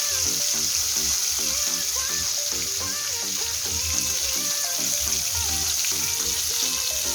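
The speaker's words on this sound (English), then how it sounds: "We're just going to fry inside until they get that golden color." Fish frying Jamaican style in hot oil gives a steady, dense sizzle with constant crackle, close and loud throughout, while faint musical tones run underneath.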